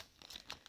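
Brief crinkly tearing noises of tape being pulled, a few short rasping bursts close up with no talking.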